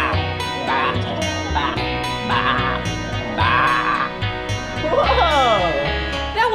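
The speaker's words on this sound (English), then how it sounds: "That was the sheep." Sheep bleat repeatedly at a children's museum animal exhibit, several wavering calls in a loud, close mix over a steady musical bed.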